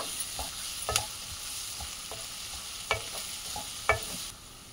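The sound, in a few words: onions and green chillies frying with curry leaves in pan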